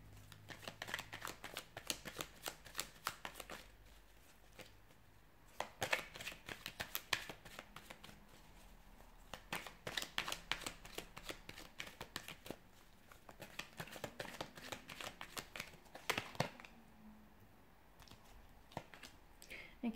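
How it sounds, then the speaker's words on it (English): Tarot cards are shuffled close by in quick bursts of riffling and flicking snaps, separated by short pauses across the stretch. "So we'll give the cards a shuffle and see what's coming in for you"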